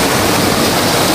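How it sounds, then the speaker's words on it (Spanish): Steady broadband rush of falling water at the top of a cascade on a hillside stream, loud and continuous with no voices. "ya casi llego a la cima de la cascada"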